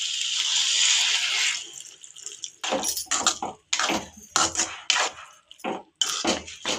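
Water is poured into a pot of boiled vegetables for pav bhaji, first as a steady pouring rush, then as a series of splashy clatters from a spoon stirring in the pot.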